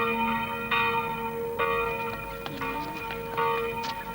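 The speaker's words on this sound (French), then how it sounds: "la cloche sonna lentement le glas pour Tom Sawyer et Huckleberry Finn" A church bell tolls slowly as a death knell, several separate ringing strikes spaced about a second apart, each one decaying into a sustained hum. The sound is moderately distant and there is no talking.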